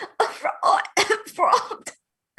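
A barista coughs aboard a boat, in a run of five or six harsh, close, loud coughs that come in quick bursts separated by short gaps, with no talk over them.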